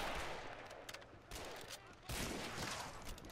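Gunfire from soldiers in Men of War, a World War II strategy game with British BEF troops defending the Dunkirk outskirts: a steady wash of rifle and machine-gun fusillade, with bursts swelling louder around the middle and near the end.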